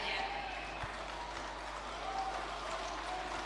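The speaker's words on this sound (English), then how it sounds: "a rousing round of applause for Madam Charity Ngilu" A crowd at the Azimio coalition manifesto launch applauds Charity Ngilu, a steady wash of clapping at moderate distance holding evenly across the moment.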